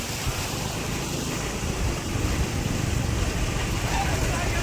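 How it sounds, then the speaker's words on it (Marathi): At Subhedar waterfall, water rushes in a dense, continuous wash close by, steady and fairly loud with a slight swell partway through, and a voice speaks over it. "इकडे पाणी आहे."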